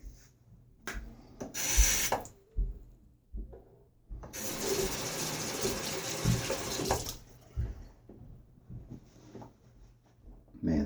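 A 1934 Gillette Aristocrat safety razor scrapes across a lathered face in a short stroke, then a longer steady rasping pass, with quiet handling noises between strokes.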